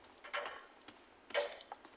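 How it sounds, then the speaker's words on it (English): A clock ticks faintly inside the horror video game Doors, a few soft irregular clicks against a quiet background. "it's the clock"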